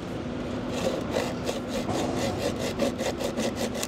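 A piece of building material is sawn by hand with a steady back-and-forth rhythm of roughly ten close, raspy strokes over faint background noise.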